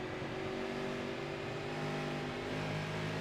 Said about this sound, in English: You hear the throttle control there by Jenkins off the corner